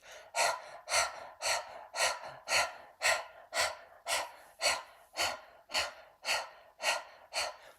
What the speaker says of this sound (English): start breathing through our mouth. It's like breath of fire, but through the mouth.